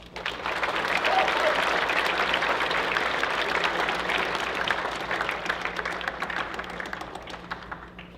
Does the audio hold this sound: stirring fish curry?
no